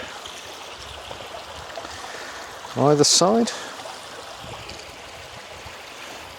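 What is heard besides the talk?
babbling brook stream flowing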